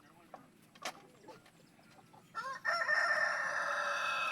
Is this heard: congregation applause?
no